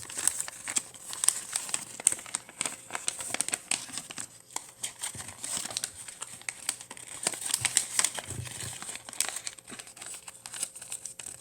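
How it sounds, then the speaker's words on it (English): Origami paper for a penguin being reverse folded, with close, irregular crinkling and crackling rustles continuing throughout at moderate volume. "Now you just want to reverse fold it."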